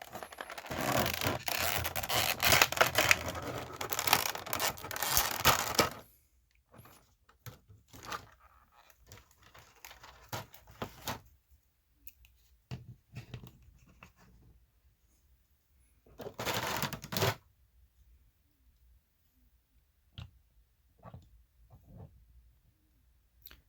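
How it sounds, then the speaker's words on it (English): An action figure, a Chun Li from a Street Fighter line, comes out of its packaging: a loud burst of plastic crinkling and scratching for several seconds, then scattered fainter rustles, clicks and a second brief crinkle. "let me take the figure out of the packaging"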